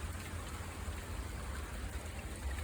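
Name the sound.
heavy rain and snow during a cold front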